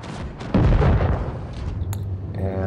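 A tank cannon shot striking an enemy tank in a WWII tank combat game, one heavy booming impact followed by rumbling decay and a few metallic clanks and mechanical whines.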